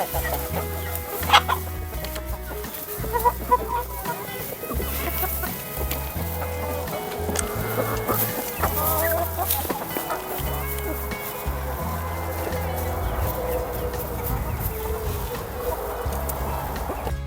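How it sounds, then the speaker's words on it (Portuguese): Chickens clucking steadily and close by while they are fed chopped grass from a homemade grass chopper, their calls repeating over a constant low hum that runs throughout. "Vamos servir lá para as galinhas e vamos ver se elas vão gostar"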